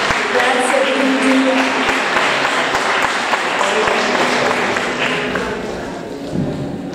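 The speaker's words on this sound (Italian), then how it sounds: "fate un applauso un po' più fragoroso, che non si scassano le mani" Audience applause fills a poetry evening in Italy, a dense steady wash of clapping that stays loud for the whole stretch and eases slightly near the end, with faint murmuring voices under it.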